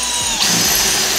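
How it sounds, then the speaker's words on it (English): A power drill bores at an angle into a wall stud during a TV wall-mount install, a steady close whirring motor that shifts pitch briefly under load and then runs on evenly. "we're gonna angle the drill bit, and we're just gonna go in at an angle to get to this stud."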